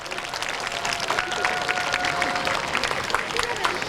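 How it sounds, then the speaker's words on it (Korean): An audience at a 2008 science festival stage event applauds to welcome the king's party, a steady wash of many hands clapping at a distance, with an announcer's amplified voice running over it. "여러분들 다시 한번 더 뜨거운 박수로 우리 국왕폐하 일행을 환영해 주시기 바랍니다"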